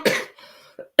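A single harsh cough from a woman, close and loud, followed by a short throaty clearing sound.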